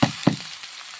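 Giant taro pieces land in a hot pan of onion, garlic and dried chillies, giving two quick, close sizzling bursts that fade into a low crackle.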